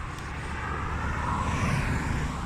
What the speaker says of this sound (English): Car, noisy.